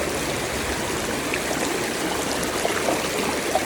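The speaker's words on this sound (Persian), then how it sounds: "بچه‌ها بعد بازی اومدیم کنار رودخونه" A river rushes and burbles steadily nearby, a continuous wash of flowing water with small splashes and no voices.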